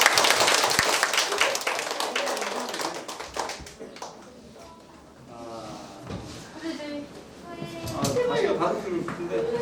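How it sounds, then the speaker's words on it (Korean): Classroom applause from students during a social studies lesson: a short burst of clapping at the start that fades out, with a teacher's voice speaking over the room afterward. "박수 좀 주세요."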